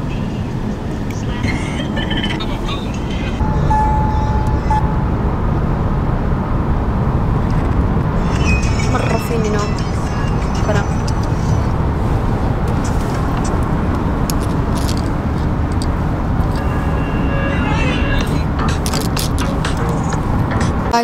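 Continuous road rumble and traffic noise from inside a moving car, a dense steady drone for about twenty seconds with occasional brighter swishes of passing vehicles and faint background sounds.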